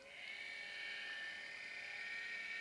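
A steady, high-pitched camera slider dolly motor whir holds at an even level for a few seconds, constant and fairly close, with no talking.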